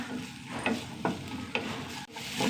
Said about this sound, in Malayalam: സവാള ചെറുതായിട്ട് വഴണ്ട് വന്നു